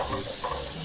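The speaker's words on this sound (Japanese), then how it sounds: "炒めてあげる。" Pork stir-frying over high heat in a pan, a steady close sizzle with soft stirring scrapes running continuously and alone.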